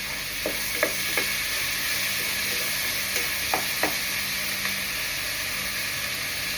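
Steady, close sizzling of food frying in a pan with oyster sauce, a continuous hiss broken by a few soft clinks of stirring, with no talk.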